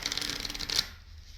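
Piles of playing cards shuffled together for a magic trick: a short, close, papery riffle lasting under a second, then quiet.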